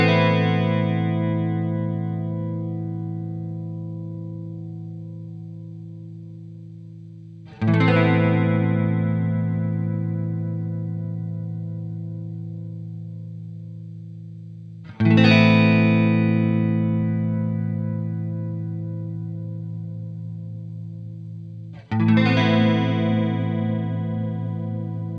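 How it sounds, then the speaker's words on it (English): Sustained guitar chords through a Boss chorus pedal in standard mode, warm and mellow modulation, four strums each ringing out and slowly decaying, played alone. "Standard mode for me is more about warm, smooth, mellow chorus sounds."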